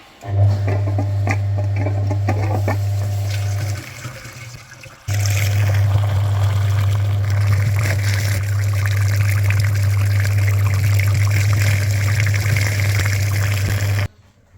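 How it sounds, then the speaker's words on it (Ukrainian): Coolant flushing machine running on a VW Jetta radiator, a loud steady motor hum with liquid gurgling and flowing, briefly stopping then resuming and continuing until it cuts out. "Зробили підключення на передній радіатор. Чистенький фільтр, вмикаємо апарат."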